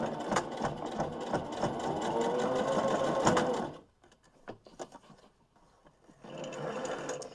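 A sewing machine stitches fabric for a face mask steadily for a few seconds, stops briefly amid quieter handling clicks, then starts running again near the end.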